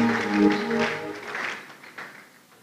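A conference audience claps for the pro-vice chancellor, the applause dense at first, then thinning and fading over a couple of seconds under a lingering voice and some hall reverberation.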